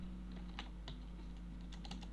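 Clicking computer keyboard keys while entering text in Photoshop: a short burst of several quick, light taps, close but quiet, over a steady low hum.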